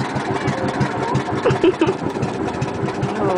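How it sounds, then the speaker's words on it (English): Motor boat engine running at a steady idle, a near, throbbing low-pitched rumble with slight fluctuations in loudness. "Can you hear the engine?"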